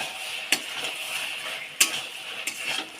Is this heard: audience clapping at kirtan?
no